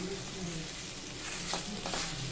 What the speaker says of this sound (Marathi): छानपैकी आपण आता असा परतून घेणार आहे दोडका।